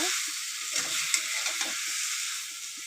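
Katla fish curry cooks in a pan with a steady bright sizzle and hiss, and a few soft stirring scrapes sound close under it.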